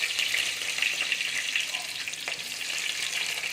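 Small onions sizzling in hot oil for a fish curry, a dense, steady bright crackle close up with light stirring underneath, continuous and with no talking.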